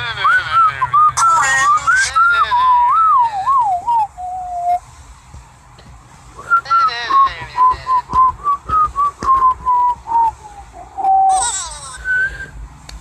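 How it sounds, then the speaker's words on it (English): Melodic whistling in a Roblox school game, wavering tuneful phrases in several bursts separated by pauses, loud and close, with talk and other sounds in between. "That was a lot of whistling too."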